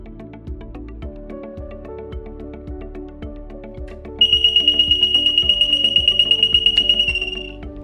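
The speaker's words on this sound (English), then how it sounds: "I'm gonna simulate a thermal alarm by taking one of the pre-installed jumpers" A pump control panel sounds its thermal alarm: a loud, piercing high-pitched beeping tone begins abruptly partway through and holds steady, rapidly pulsing over a background of repetitive mechanical clicking and humming, then fades at the end.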